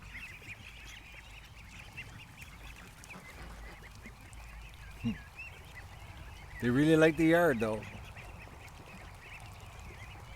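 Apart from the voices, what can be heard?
ducks quacking in the yard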